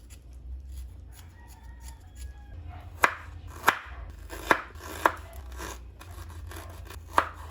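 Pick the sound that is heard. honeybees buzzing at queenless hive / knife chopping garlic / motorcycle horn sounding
knife chopping garlic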